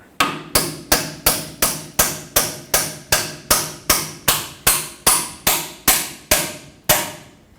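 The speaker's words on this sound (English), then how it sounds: "we're going to take a hammer and punch this backwards" Repeated sharp metallic hammer blows on the outer tie rod of a Ford F-350 pickup, about sixteen evenly spaced strikes with a brief ring after each, close and loud.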